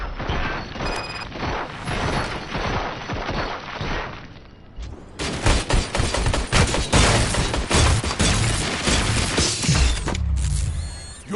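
Gunfire in the video game RoboCop: Rogue City, loud dense bursts of rapid shots with crashes and mechanical clatter, continuing through most of the stretch with a short lull midway.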